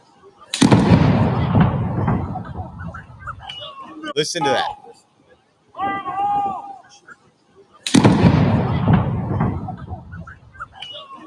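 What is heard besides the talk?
controlled detonation explosion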